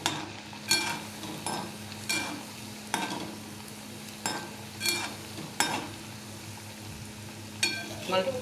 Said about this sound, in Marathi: मस्त आलटवत पलटवत मस्त फ्राय करून घ्यायचे.